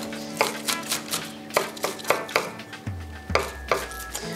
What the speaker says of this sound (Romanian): ceapa verde, o tăiem mărunt